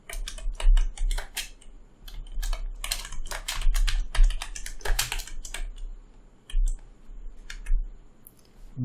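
Rapid typing on a computer keyboard, bursts of crisp key clicks and heavier thumps with short gaps between runs, close and fairly loud, with no one talking.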